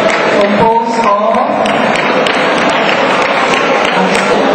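Audience at the Ateneo Math Olympiad 2011 awarding applauding a winning team, steady close clapping throughout with a few voices underneath.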